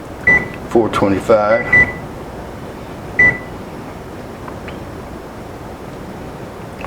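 Electronic oven control beeps, a few short tones early on and one more a moment later, sounding near over a person talking and a steady background hum.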